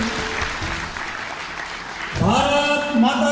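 A crowd of party workers claps steadily at a BJP Scheduled Caste conference in Mehrauli, Chhatarpur, with dense applause for about two seconds before voices rise over it.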